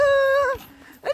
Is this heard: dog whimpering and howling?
yes